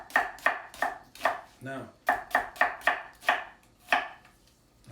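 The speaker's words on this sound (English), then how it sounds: "I cut the bottom off my onion and I just start going off." A kitchen knife chops an onion on a cutting board with about a dozen crisp, close knocks in a steady rhythm. The run breaks once for a brief scrape, then the chopping picks up again. A single spoken word comes near the start.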